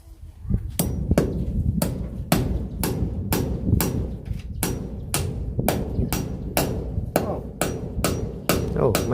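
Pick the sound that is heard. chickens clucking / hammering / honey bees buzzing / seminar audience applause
hammering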